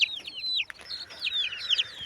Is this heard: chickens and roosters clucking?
yes